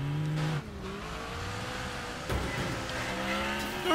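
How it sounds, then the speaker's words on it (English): Racing car engine in the demolition-derby video game Wreckfest, revving steadily throughout with a tonal drone that rises and falls, a sharp impact-like burst near the middle, moderately loud with no talking. "Got a little bit of engine noise."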